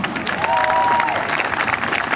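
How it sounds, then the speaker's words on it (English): Audience applause at a horse expo: dense, sustained clapping from a crowd, loud and steady throughout, with no talk over it. "why don't you give all of them a big hand, huh?"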